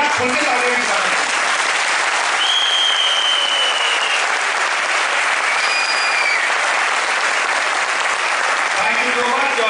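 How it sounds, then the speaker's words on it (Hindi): Sustained audience applause fills a presentation hall at a company's 10th anniversary event in Mumbai, dense and steady clapping from a large crowd throughout, with a few whistles rising above it. "मैं खुल के तालियां भी बजाता हूं।"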